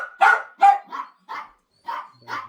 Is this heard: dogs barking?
yes